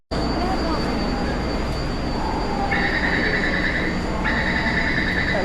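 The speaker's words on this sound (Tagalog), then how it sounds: "So, sakay ulit tayo ng train." A Taipei metro train on the Tamsui line rumbles steadily, heard from inside the car. Electronic tones come in partway through.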